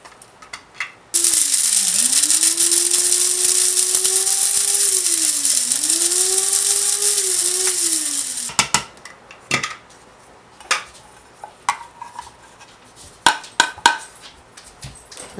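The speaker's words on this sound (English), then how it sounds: "put the herbs in a coffee grinder with the rice" A coffee grinder whirs loudly and steadily for about seven seconds while grinding herbs and black rice, its pitch dipping and rising, then cuts off and leaves scattered clicks and taps.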